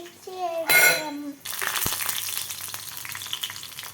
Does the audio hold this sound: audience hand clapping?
no